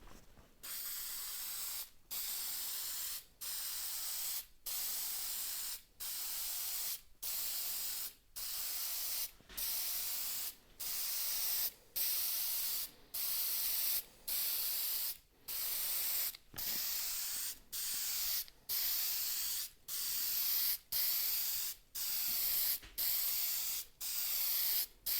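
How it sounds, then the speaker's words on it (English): Yellow toner sprayed onto dry sink doors from a spray gun: about eighteen steady hissing bursts, each a second or so long, separated by short even pauses and close to the listener, with no talk. "Well, that's got the first coat of the yellow toner on it."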